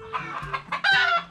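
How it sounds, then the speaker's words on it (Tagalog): Chickens on a rural farm cluck in short repeated calls, close by, with a louder drawn-out squawk near the end. "Napakarami nilang manok."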